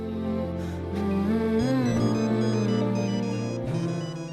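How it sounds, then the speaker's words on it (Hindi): A phone ringtone plays continuously and loudly, a bright melodic electronic tune with layered tones and no voices over it. "वो देख, फिर से फोन बज रहा है।"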